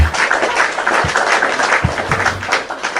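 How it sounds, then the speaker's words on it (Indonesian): Audience applause at a live religious discussion session, a dense steady patter of clapping that runs loud for the full three seconds with a few low thumps mixed in. "gitu dong, tepuk tangan"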